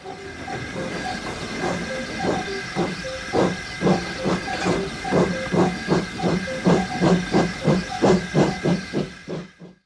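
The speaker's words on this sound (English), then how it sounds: "The waiting passengers cheered and waved as Gordon drew into the platform" A steam locomotive pulling coaches into a harbour station puffs in a steady rhythmic chuff, hissing with each beat and growing louder and closer before fading out at the end.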